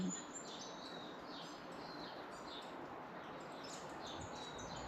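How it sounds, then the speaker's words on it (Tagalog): Many birds chirp and tweet in quick, overlapping bursts against a steady hiss of outdoor morning ambience in New Zealand, fairly distant and continuous. "Ang ingay ng ibon."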